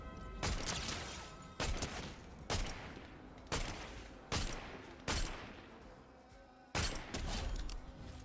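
Sharp single gunshots from a rifle in Fortnite, about seven loud cracks spaced roughly a second apart, each trailing off into a brief echo, fairly faint overall with no talk.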